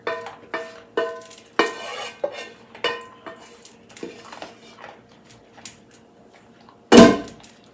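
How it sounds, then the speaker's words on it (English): Pasta sauce goes into a pot of penne, heard as a series of sharp metallic clanks and taps of a utensil against cookware, loud at first and then thinning into lighter knocks, followed by one final loud burst. "I'm just gonna add all of that sauce in there."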